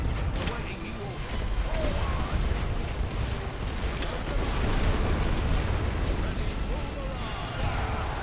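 Continuous low rumbling artillery barrage from the World War I strategy game The Great War: Western Front, with a few sharp distant booms standing out over a dense, steady wash of explosions.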